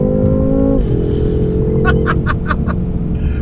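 A BMW F10 M5 Competition pulls hard with a loud, close engine drone that holds steady, dips briefly at a shift, then keeps building, with rhythmic mechanical pulses over the top.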